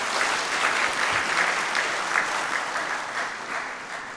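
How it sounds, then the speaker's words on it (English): Warm, sustained applause from a seated audience at a corporate awards ceremony honouring a guest, steady and full throughout, gradually easing slightly toward the end. "A big round of applause to Mr."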